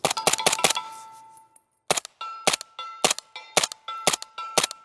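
Suppressed rifle shots through a SIG Sauer HEXIUM 300 suppressor, fired in quick rapid-fire strings: sharp, loud cracks in bursts of three to five with brief pauses, each shot leaving a short ringing tail.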